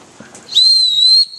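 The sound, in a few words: dog whistle blown in a classroom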